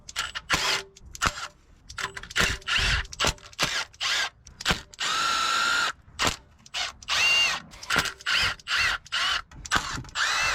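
Power tool bursts spinning out 10mm bolts on a worn Nissan 350Z, a rapid series of short, loud whirring runs with ratcheting stops between them, close up and with no talk.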